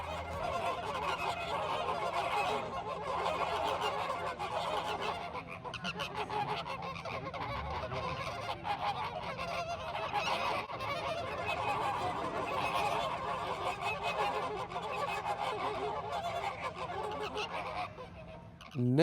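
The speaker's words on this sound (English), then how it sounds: "I've never seen flamingos this active." Flamingos at Busch Gardens in Tampa give a noisy, unbroken chorus of nasal honks and goose-like calls from a large active flock, close and loud throughout.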